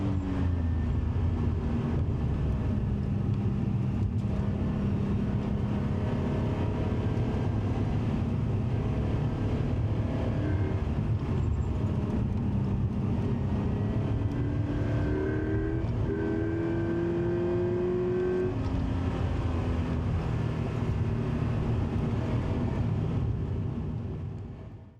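Scion FR-S engine droning steadily through a wet lap of ThunderHill East in the rain, light throttle with gentle pitch rises, loud and close in the cabin with road and spray noise throughout, no talking.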